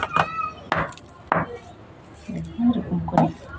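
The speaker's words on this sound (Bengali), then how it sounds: "দেখো বন্ধুরা আমি কি করে গুঁড়ো করছি" Hand-pounding of something into powder, several sharp thuds spaced irregularly with grinding scrapes between, close and fairly loud, with a voice speaking briefly in the background.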